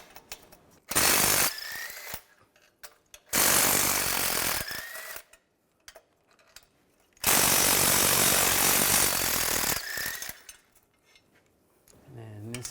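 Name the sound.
removing bolts with a socket on a Chevrolet Cobalt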